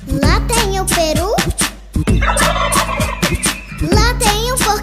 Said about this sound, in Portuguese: lá tem o peru